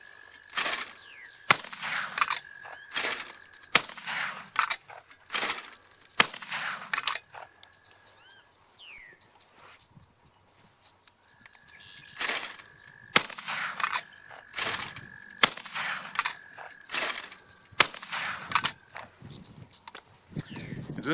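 Fabarm XLR5 flat-rib shotgun fired at clay targets, sharp close shots in quick repeated bursts with a lull in the middle before firing resumes, no talking.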